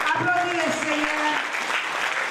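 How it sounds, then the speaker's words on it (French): A church congregation applauds in praise of the Lord. Steady, dense clapping fills the space while a voice speaks over it. "Applaudissez le Seigneur."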